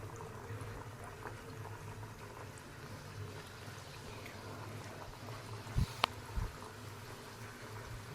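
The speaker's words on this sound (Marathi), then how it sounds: "बाकीच्याही पुऱ्या आपण तळून घेणार आहोत।" Masala samosa puris made with semolina fry in hot oil over medium heat, giving a continuous bubbling, boiling-like sizzle with a few brief louder splutters near the end.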